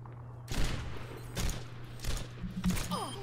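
Widowmaker's sniper rifle fires in the Overwatch video game as four sharp, fairly loud cracks spaced about a second apart over a steady low hum, each followed by a short rattling tail.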